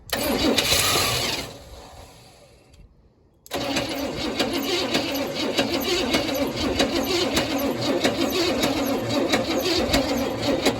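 A 1966 Cadillac Deville engine cranks with a loud, rapid starter churn, drops into a brief silence, then cranks again in a steady, continuous whir that runs on without catching.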